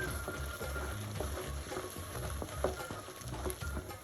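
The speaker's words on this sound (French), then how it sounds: "Mélanger jusqu'à obtenir une pâte homogène." Soft scraping and gentle sizzling as thick choux pastry dough is stirred in a saucepan over low heat, with a steady, continuous rhythm close by.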